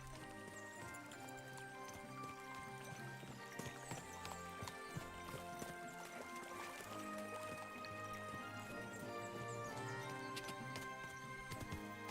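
A horse walks in Kingdom Come: Deliverance 2, its hooves clopping repeatedly beneath a dense layer of game music and ambient sound, with a watery trickle mixed in throughout.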